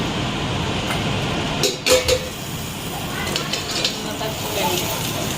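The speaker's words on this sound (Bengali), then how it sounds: "কড়াইতে দিয়েছি আলু পেঁয়াজ আর কাঁচা লঙ্কা ভাজা করছি" Potatoes, onion and green chilli fry in a wok with a steady, close sizzle, broken now and then by a few short scraping clatters from stirring.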